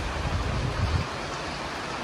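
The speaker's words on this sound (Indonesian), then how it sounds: "hujan deras" Heavy rain pours in a steady, dense broadband hiss with a deeper rumbling wash in the first second that then settles, and no voices are heard.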